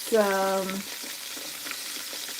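Catfish fries in a pan with a soft, steady crackling sizzle at moderate distance, briefly overlapped at the start by a short tonal sound before the frying continues alone.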